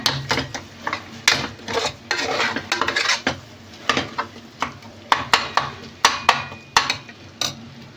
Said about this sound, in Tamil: போட்டு நான் வந்து கிண்டி விட்டுக்கிறேன்.